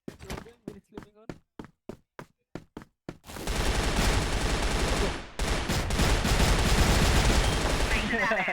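Gunfire in the online shooter CrossFire during a competitive match: a string of separate single shots, then dense sustained automatic fire that briefly drops out and resumes, loud and close.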